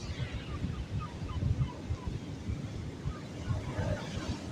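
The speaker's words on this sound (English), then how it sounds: "A lot of birds, bro." A flock of birds calls in the open air amid gusting wind noise and possible surf, the cries faint and scattered under a heavy low rumble, with someone speaking briefly.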